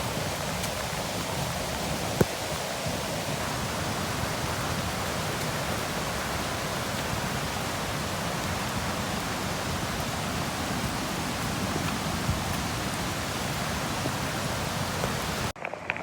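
Floodwater rushes steadily after nonstop rain in Linao, San Juan, a dense, unbroken roar with no pauses, close and loud throughout.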